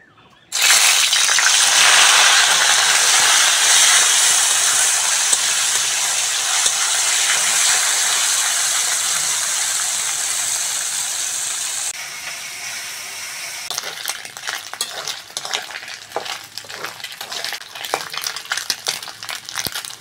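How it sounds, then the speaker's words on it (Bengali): Small fish hit hot oil in a heated wok with a loud, dense sizzle that holds steadily, then thins into crackling spatters and pops toward the end. No one speaks. "ভালো করে কড়া গরম করে নিয়েছি, এবার মাছগুলো দিয়ে দেবো।"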